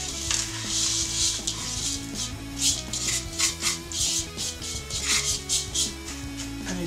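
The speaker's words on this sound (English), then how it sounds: "you just want to press it down. The back of the spoon is good for doing this" A spoon presses and scrapes a crumb base of biscuit and melted butter into a cake tin, rhythmic scraping and rubbing strokes close by over a steady low hum.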